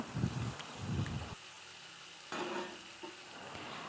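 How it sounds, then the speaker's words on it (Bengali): Fish being fried with ridge gourd in a pan, a soft crackling sizzle with stirring scrapes that drops away halfway, then returns more quietly near the end; no voices. "মাছগুলি দিয়ে আবার একটু ভালো করে ভেজে নেব"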